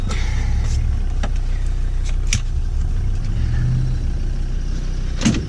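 An off-road vehicle stuck in a hole on an off-road track runs its engine in a continuous low rumble that swells slightly at times, with a few sharp clunks and knocks over it.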